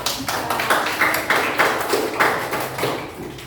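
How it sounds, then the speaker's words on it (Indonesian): A classroom group claps in applause for a team of student presenters, a rhythmic, patterned clapping with regular bursts of hands, close and fairly loud, easing off at the end. "tepuk tangan untuk kelompok"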